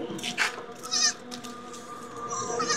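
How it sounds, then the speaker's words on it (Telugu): Three young goat kids bleat at a roadside stop, giving several short, high, close cries in quick succession while a person talks nearby. "3 ఉన్నాయి మేక పిల్లలు మంచిగా."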